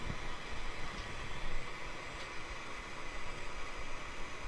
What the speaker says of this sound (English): I'm going to hear it hiss a little bit more.